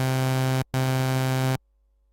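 Synthesizer oscillator playing a sawtooth wave: a bright, buzzy, harmonic-rich tone held in two loud sustained notes, split by a short gap, then cut off abruptly into silence.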